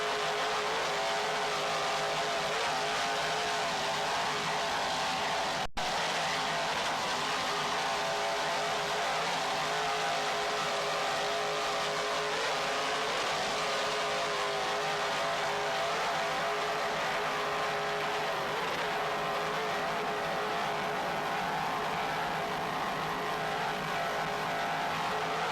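Douglas skater powerboats in the modified racing class roaring past in a 1995 offshore race, a loud, continuous engine drone lasting throughout with no talking and one brief dropout.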